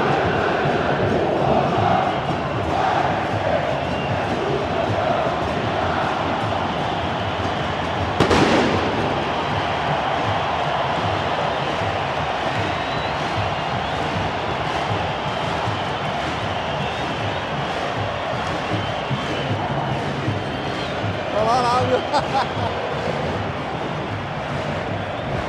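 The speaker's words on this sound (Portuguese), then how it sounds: "vamos ver a torcida do Grêmio fazendo festa no Beira-Rio" Grêmio supporters celebrate inside Beira-Rio stadium during a Grenal match against Inter, a dense continuous crowd roar broken by one sharp bang and scattered crackling pops later on.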